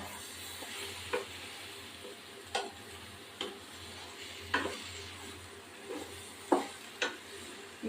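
Chillies and taro greens sizzling in a pan, a steady soft frying hiss with light intermittent clicks and pops of spice crackling, close and gentle with no talking.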